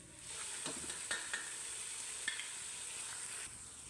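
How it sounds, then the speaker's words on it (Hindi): Onions turning light golden brown sizzle steadily in hot oil with ginger, garlic and green chili paste, for a leftover pulao; a continuous close fry with a few soft stirring scrapes and no talking. "प्याज हमारी लाइट गोल्डन ब्राउन होती आ रही है"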